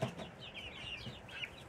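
Chickens cluck softly nearby in a farmyard where roosters forage on henbit, with a few short, faint calls over low background noise.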